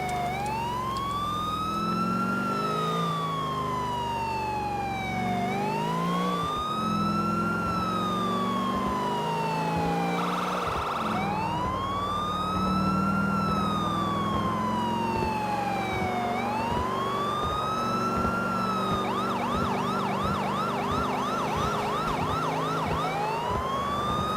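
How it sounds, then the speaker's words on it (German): Police siren in the video game GTA IV, wailing loudly and continuously, sweeping up and down in long cycles before switching to a rapid yelp pattern near the end, with engine rumble underneath. "Ein Blaulicht und Sirene."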